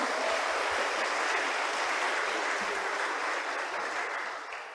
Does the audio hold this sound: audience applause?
yes